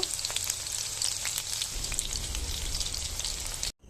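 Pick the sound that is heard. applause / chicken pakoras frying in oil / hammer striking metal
chicken pakoras frying in oil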